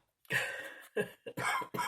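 A person coughs several times close to the microphone: a long hacking burst followed by three shorter coughs.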